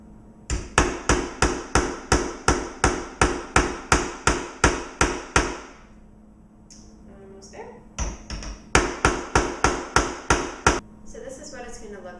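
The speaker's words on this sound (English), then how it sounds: "So I'm just going to hammer down now." Sharp, rapid hammer blows ring out on a cutting board in a steady rhythm, two bursts of about a dozen strikes each, separated by a brief pause with a voice.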